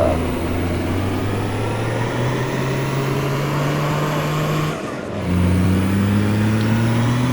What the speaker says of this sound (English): I'll drive the truck out this way.